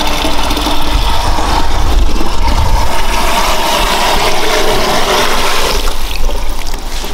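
A water pump draws dirty water up from a well, giving a loud, continuous gushing rush over a low mechanical drone that holds steady throughout.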